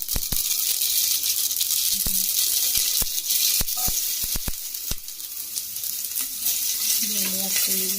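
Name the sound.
mustard seeds sizzling in hot oil for tempering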